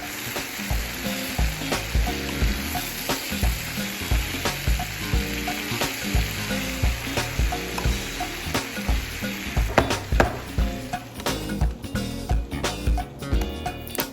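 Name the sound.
butter melting and browning in a pan while stirring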